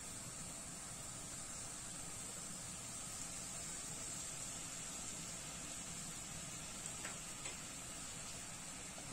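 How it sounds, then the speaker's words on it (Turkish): Berliner doughnuts frying in hot oil give a quiet, steady sizzling hiss with a faint tick or two, heard alone without talk. "Bakın görüyorsunuz hemen kızarmaya başladılar."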